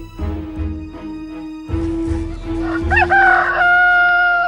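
A rooster crows loudly and close by, a long rising and falling call, with faint clucking and farmyard sounds before it.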